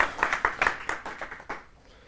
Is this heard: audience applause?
yes